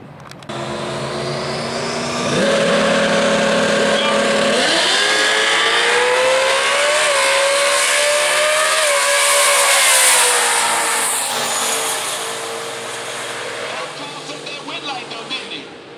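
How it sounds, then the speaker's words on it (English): A Chevrolet Corvette drag racing down the strip at Worldwide Technology Raceway, its engine roaring loud and steady with pitch climbing through the run before easing off near the end, with a voice over it. "Dragging that Corvette down that road, sending that wind like, woo!"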